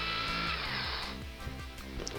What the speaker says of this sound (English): just drilling off the base